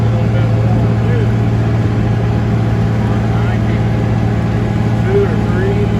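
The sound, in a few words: farm tractor engine running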